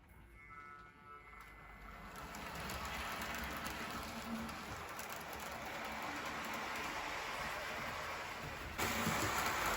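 A model train hauled by the locomotive Lady Diana pulls a rake of Accurascale VTG JSA steel coil carrier wagons around the track, a soft steady rolling rumble that builds gradually and stays even.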